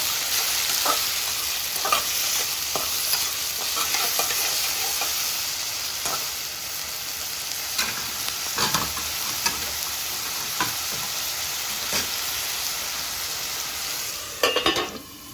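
Onions softening with salt in a pan sizzle in a steady broad hiss, broken by repeated scraping stirs and a few utensil knocks, close and fairly loud, with no talk.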